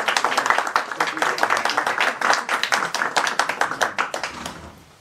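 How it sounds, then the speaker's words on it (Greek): An audience claps at an Athens book lecture on Masonic philosophy, a lively round of hands with some individual claps standing out, holding steady and then fading away at the end. "Στο χειροκρότημα."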